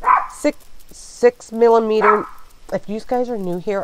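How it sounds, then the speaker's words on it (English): A woman's pet dog barks several times in short, loud bursts close by, mixed in with her ongoing talk indoors. "And that's my dog."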